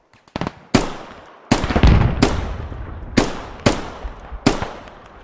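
Machine gun fire in the military shooter Squad: a few crisp opening shots, then a series of loud, sharp bursts and single reports spaced about a second apart, each ringing out with a long echoing tail.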